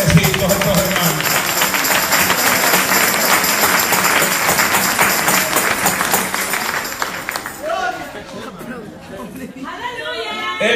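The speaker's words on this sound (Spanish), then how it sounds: "Oiga ese aplauso, hermano." A church congregation claps and cheers during a pastor's sermon, a loud, busy mix of applause and crowd noise that thins out toward the end, with voices mixed in.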